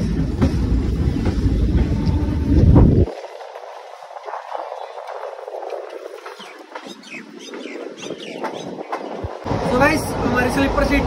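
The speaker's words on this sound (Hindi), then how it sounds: "चलो भाई ट्रेन चल पड़ी।" A passenger train starts to move on a January pilgrimage journey toward Vaishno Devi in India, with a loud low rumble at first, then a quieter rolling rattle and clatter, while people talk nearby.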